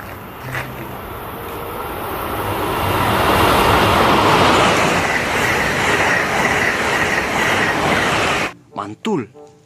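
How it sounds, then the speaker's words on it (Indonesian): A high-speed train rushes past, a loud broad roar that swells to a peak mid-pass and holds before cutting off abruptly, followed by brief speech. "Wow, kereta cepat."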